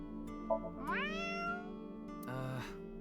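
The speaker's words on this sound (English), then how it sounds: "If you meow at a lucky cat statue, happiness will come your way." Cat meows from a lucky cat statue in AI: The Somnium Files – nirvanA Initiative: a short meow, then a longer rising, drawn-out one and a final brief call, clear and close over quiet game music.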